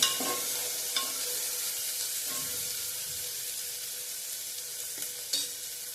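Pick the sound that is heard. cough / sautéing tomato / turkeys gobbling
sautéing tomato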